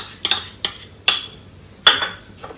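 Mutton being mixed with ginger garlic paste for an Anglo-Indian mutton curry, giving four or five separate clinks and scrapes of a spoon against a metal dish, spaced irregularly with quiet gaps between.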